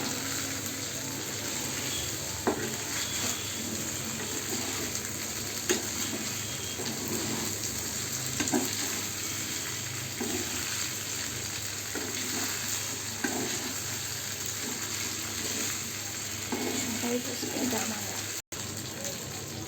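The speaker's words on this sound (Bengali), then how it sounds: "তো দেখতেই পাচ্ছেন নাড়াচাড়া করতে করতে, এবং এই লো আঁচে রাখার জন্য নিচে কিন্তু আমার লাগেনি।" Food fries on low heat in a pan while being stirred, a continuous gentle sizzle running throughout with periodic scraping strokes of a spatula, close and even, with a voice faintly talking over it.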